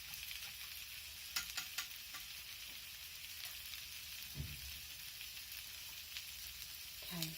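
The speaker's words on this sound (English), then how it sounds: "as I stir it you can see the saffron coming to the top" A warm saffron mixture is stirred in a pan, producing a gentle sizzle with occasional scrapes and light clinks of the utensil against the pan, quiet and close with no speech.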